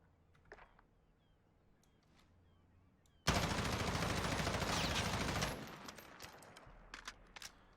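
A stock M16 Grenadier barrel on an M4 rifle in Warzone fires one loud sustained automatic burst of about two seconds, opening abruptly after near-silence, then leaves fainter scattered shots and noise.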